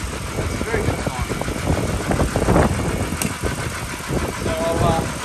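A Ford BF Falcon XR6 with the Barra inline-six, suspected of engine sludge and faulty VVT cam solenoids, idling steadily from inside the cabin, a low continuous rumble with no talk over it.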